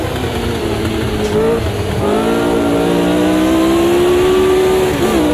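Vintage Formula racing car engines in the Automobilista 2 racing game, a loud, close engine note climbing steadily in pitch as it accelerates, steady and unbroken with other engine noise underneath.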